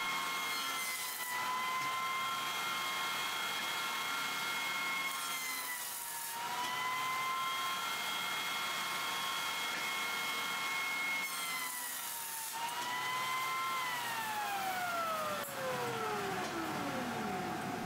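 A woodworking jointer runs steadily with its dust collector pulling chips away, giving a loud, continuous mechanical roar with a high whine that dips and rises as boards pass over the cutter head.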